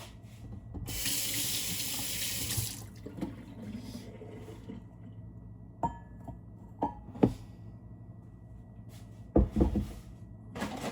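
Warm water runs from a kitchen tap into a sink in a gusher lasting about two seconds, followed by quieter clinks, knocks and handling sounds of bowls and cupboards at close range.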